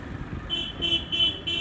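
Busy city street traffic with motorbikes, a vehicle horn honking in four short repeated toots over a steady rumble of passing engines, fairly close.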